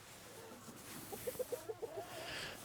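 A rooster makes a quick series of soft, low clucks, about six evenly spaced, faint and somewhat distant over quiet outdoor background.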